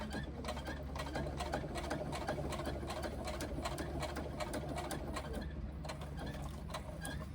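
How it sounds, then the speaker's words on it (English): A sewing machine stitches around the edge of a pouch, giving a close, rapid mechanical rattle of needle strokes in quick bursts with brief pauses. "I'm going to keep sewing down around the edge, probably in the opposite direction to what I would normally sew"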